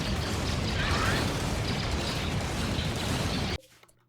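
A frag grenade blast in the colony game RimWorld with a Star Wars Hutt Cartel mod, a dense roaring burst with crackling debris lasting several seconds before cutting off abruptly into near silence.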